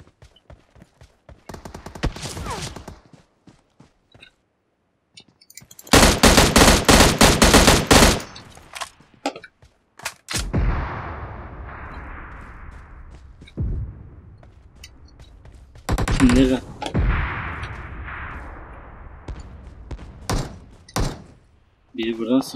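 Loud bursts of automatic gunfire in PUBG Mobile's heavy-weapons mode rattle in two main volleys separated by quieter stretches, with a person talking between them.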